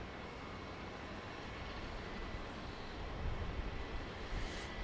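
A Cessna Citation jet taking off from runway 31 right at Dallas Love Field makes a faint, distant, broadband roar that swells slightly toward the end.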